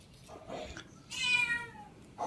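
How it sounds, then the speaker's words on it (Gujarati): A tomcat gives a single clear, drawn-out meow close by in a quiet rural home, with a few soft, faint sounds before it and a brief cry after. "મીંદડો"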